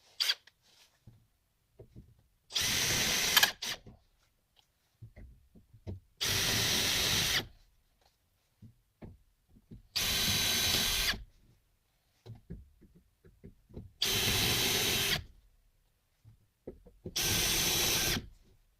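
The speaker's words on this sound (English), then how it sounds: "We'll drill these out, and then we'll go from there." A power drill drilling out rivets on a 1993 Chevy K1500 interior door handle runs in five separate bursts of about a second each, evenly spaced, with quiet handling noises between them.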